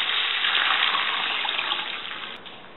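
Water pours into a hot cooking pan of tempered mustard seeds, green chilies and curry leaves. It makes a steady, close gushing sizzle that tapers off toward the end, with no talking.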